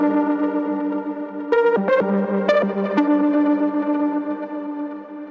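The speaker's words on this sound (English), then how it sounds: "If we turn this off now, the synth sound sounds like this." Dry synth lead with no granular delay effect, playing sustained notes with a few quick pitch changes in the middle, clean and fairly loud with no talking.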